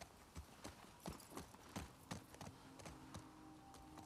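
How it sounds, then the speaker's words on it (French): Horse hooves clip-clopping in the video game The Last of Us Part II: a steady, even series of hoof strikes on a hard surface, clear and close, over a low ambient game background with no speech. "Ah, le cheval."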